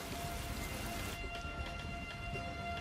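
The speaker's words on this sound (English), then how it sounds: "The rain runs off the mountains, building momentum as it descends to the valley floor." Heavy rain pours and runs off desert mountains in Arabia, a dense steady hiss of falling water and drops that softens after the first second but keeps going throughout, with no voices.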